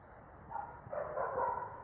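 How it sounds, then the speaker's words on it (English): Dogs barking somewhere in the background, faint and distant, a few muffled barks bunched in the second half of a short, quiet stretch with no speech. "Please don't mind the dogs if you can hear them."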